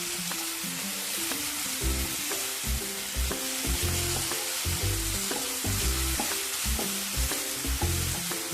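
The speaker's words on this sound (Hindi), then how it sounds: "और इसको थोड़ा देर फ्राई करेंगे 1 मिनट तक, ताकि मेरा मसाला जो है वो डाले हम वो मेरा भुन जाए।" Spiced masala with black pepper powder frying in a pan for egg curry: a loud, continuous sizzle with repeated stirring clinks and scrapes throughout, with no talking.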